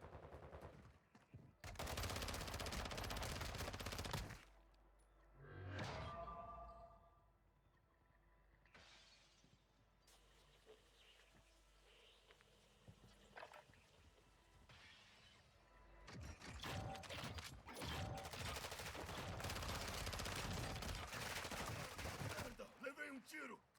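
Dense bursts of rapid gunfire from a first-person shooter video game, loud and close, with a long barrage at the start and another near the end, separated by quieter stretches of game ambience and scattered shots.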